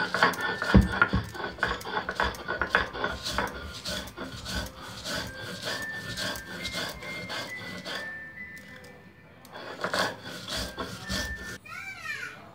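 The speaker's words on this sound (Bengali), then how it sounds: "বন্ধুরা শিলবাটাতে এটা নিয়ে নিয়েছি, এবার এটা বাটবো।" Black cumin is being ground on a shil-bata grinding stone, with repeated rough rubbing strokes of stone on stone, close and steady, with brief pauses and some faint background voices.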